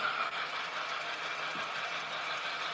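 A toy model train runs along its track with a steady, continuous mechanical whirr and faint rattle, close by and even in level throughout, with no voices.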